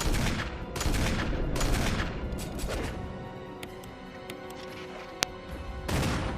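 Gunfire in the Resident Evil HD Remaster video game: about six loud, booming shots spaced irregularly, several in quick succession early on and more later, over a dense, rumbling game background.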